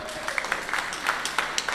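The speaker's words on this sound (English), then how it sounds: "let's give a big round of applause for our district governor" A small audience at a Rotaract club visit in western Uganda claps for the district governor, a short burst of scattered, fairly close hand claps with a faint voice beneath.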